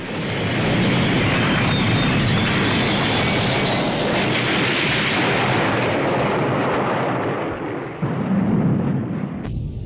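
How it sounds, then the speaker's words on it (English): A cartoon explosion destroys the Channel 6 building, a loud, sustained roaring blast with crackling debris that rumbles on for several seconds before a final burst near the end. "in the episode Get Shredder, he destroyed the Channel 6 building"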